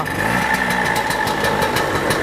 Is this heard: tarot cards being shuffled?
no